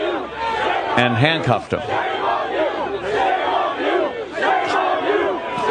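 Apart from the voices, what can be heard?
crowd shouting at Dealey Plaza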